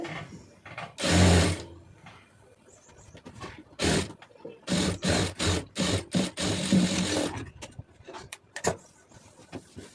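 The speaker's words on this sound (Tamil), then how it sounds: "அந்தந்த டேர்னிங்கில் வரும்போது வேகமாக தைக்காதீங்க." A sewing machine stitches a blouse in several short bursts, loud close mechanical rattling runs separated by pauses, with one longer run near the middle.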